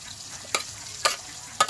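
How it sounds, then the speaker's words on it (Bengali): Potatoes frying in a pan on a home cooking stove, with three evenly spaced scraping stirs over a low, steady sizzle. "আর এই যে আলু ভাজা হচ্ছে"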